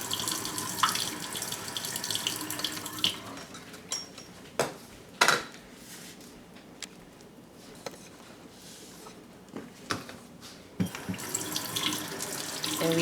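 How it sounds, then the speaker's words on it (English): Water runs steadily from a kitchen tap as hands are washed beneath it, a continuous splashing stream with a few brief louder splashes and faint clinks of dishes nearby, no one talking. "let me wash my hands since I touched meat."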